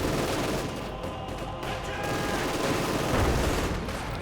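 Dense battle gunfire from the Company of Heroes 2 game, with overlapping rifle and machine-gun bursts and distant explosions forming a continuous rumbling fusillade at moderate level.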